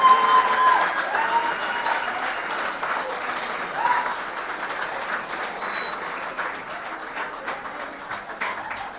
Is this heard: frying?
no